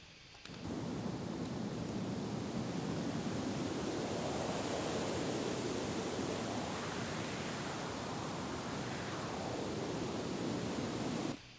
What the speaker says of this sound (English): that gives me a great effective wind sound